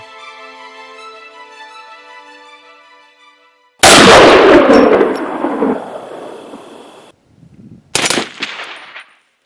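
Two loud rifle shots fired through an OSS suppressor, each a sharp broadband blast with a short decaying tail. The first follows a few seconds of steady tonal hum, and the second comes about four seconds later after brief quiet.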